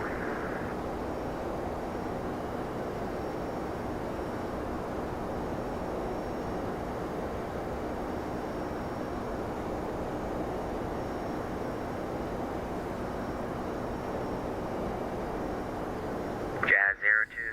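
Steady broadband turboprop roar of a King Air 350 on its takeoff run in X-Plane 11, constant and loud throughout, with a short radio voice burst at the very end.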